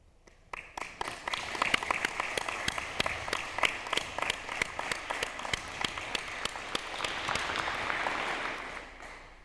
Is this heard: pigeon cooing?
no